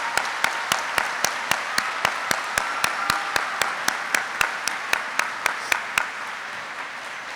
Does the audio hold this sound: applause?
yes